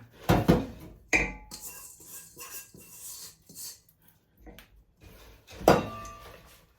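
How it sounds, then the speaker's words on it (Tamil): A ground mixture for boondi laddu is stirred into a pan with irregular metallic scrapes, clanks and knocks of utensil on cookware, loud and close with quiet gaps between strokes. "இதை நான் அப்படியே இதுக்குள்ள போட்டு கிண்ட போறேன்"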